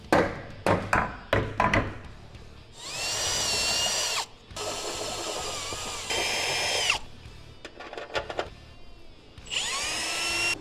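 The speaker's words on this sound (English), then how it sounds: "Once you drill out your frame rail," A power drill boring holes in a painted truck frame rail during a tow bumper install, with a few sharp taps first and then several long, loud whining drill runs broken by short pauses.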